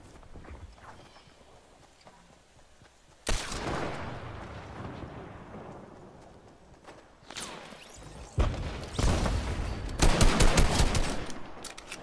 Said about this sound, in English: I hear the bullets.